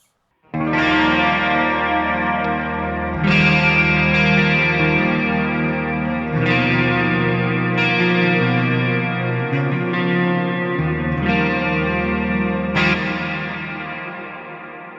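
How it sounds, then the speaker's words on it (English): Clean electric guitar chords through a Fractal Audio AM4 with analog stereo chorus, ringing out in sustained, shimmering strums struck every few seconds, loud and steady with no talking. "So that's a nice chorus, analog stereo chorus."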